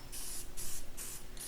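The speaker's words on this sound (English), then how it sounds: "I'm going to spray paint the wrench" Red self-priming metal spray paint hissing from an aerosol can onto a small German pipe wrench, four short even bursts with brief pauses between them, close and fairly quiet.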